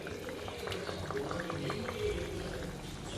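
A pot of curry bubbles and simmers steadily up close, with soft popping and gurgling of thick liquid throughout.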